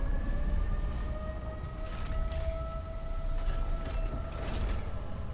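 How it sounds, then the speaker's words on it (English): A siren wails steadily in the video game Satisfactory, sustained tones holding over a constant mechanical rumble throughout, fairly loud with no talk over it. "There's a siren going off."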